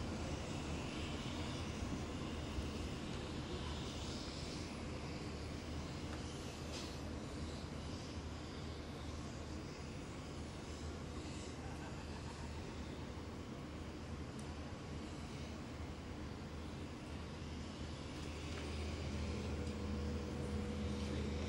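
Steady, loud drone of Hercules C-130 military transport aircraft engines at a ceremony for MH17 victims, continuous broadband roar holding level throughout with no speech.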